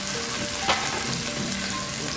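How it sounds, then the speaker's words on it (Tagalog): Garlic, onion and Thai chili sautéing in a pan make a steady close sizzle and crackle that runs without a break, with a faint scrape of stirring partway through. "igisa lang natin mabuti yung ating mga sangkap para naman makuha natin yung flavor"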